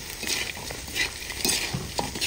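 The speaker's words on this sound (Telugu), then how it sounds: "చక్కగా సిమ్లోనే ఇప్పుడు ఇదంతా ఇలా కలుపుకోవాలి" A spoon stirs bitter gourd fry around a pan over a low flame, giving soft irregular scraping and faint sizzling close by, with no voices.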